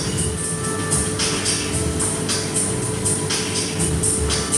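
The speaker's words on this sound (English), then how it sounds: "there comes the tram to take people to work" A tram arrives in a town square in a Latvian city, a steady rolling rumble with faint rail squeals and clatter, heard from above at a distance over continuous street ambience.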